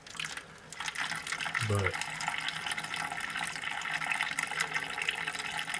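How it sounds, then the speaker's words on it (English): A faucet runs a light trickle of water into a small bell siphon cup on a countertop aquaponics system, a steady soft stream of splashing with a brief spoken word near the start. "if we turn on the water, just a light trickle, because that cup's not very big"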